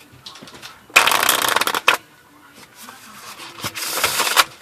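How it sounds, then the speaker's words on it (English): Plastic playing cards riffled in a close, crisp burst of rapid flutter, then a short snap, followed by quieter shuffling that builds again into a second riffle; no talking. "You're just going to start shuffling the cards"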